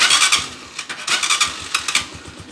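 A Honda TMX 125 Alpha motorcycle engine, just overhauled, cranks and catches, then runs with a quick uneven putter of repeated firing bursts at close range.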